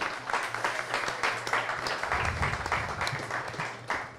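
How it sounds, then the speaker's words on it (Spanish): A studio audience claps through the whole stretch, a steady dense patter of many hands at moderate volume with no voices on top. "Por favor, un aplauso."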